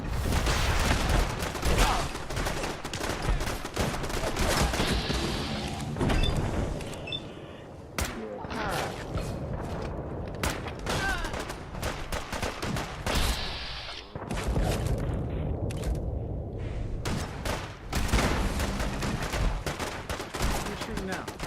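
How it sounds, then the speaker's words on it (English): A chaotic Fallout 4 firefight with loud, close bursts of automatic and single gunshots that continue almost without a break, plus heavy booms. A brief lull comes midway, and a voice talks intermittently under the shooting. "Who's shooting now?"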